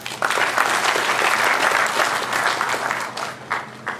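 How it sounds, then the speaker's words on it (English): An audience at a university investiture ceremony applauds, with sustained, dense clapping from a large crowd that swells and then gradually tapers off toward the end. "Let us give a rousing applause to our faculty, staff, and students"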